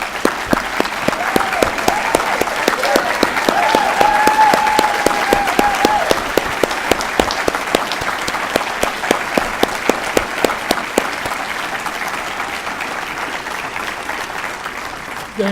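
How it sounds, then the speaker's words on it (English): A graduation ceremony audience applauds veterans in a hall, steady dense clapping that runs strong and continuous for the full stretch before slowly thinning toward the end. "how about a resounding applause for these selfless Americans and their selfless service?"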